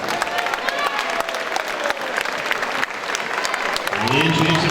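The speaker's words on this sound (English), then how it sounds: "give them a big round of applause for getting in here tonight" Crowd applause at an amateur fight night for two under-16 fighters, steady clapping mixed with a few cheers, fairly loud and continuous, with a voice coming in over it near the end.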